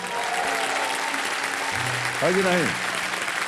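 A studio audience on a Hindi quiz show claps in a continuous, even wash of applause while someone speaks briefly over it.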